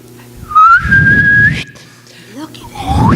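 A person whistling at a church talent show, a loud, close rising note that holds steady for about a second before breaking off, followed by fainter whistled slides and breathy sounds.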